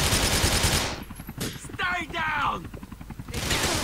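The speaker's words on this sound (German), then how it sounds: "Schieß jetzt einfach mal freihand." Automatic gunfire in the video game GTA 4 rattles in dense rapid bursts at the start and end, with a gap of quieter game noise and a short electronic tone between them.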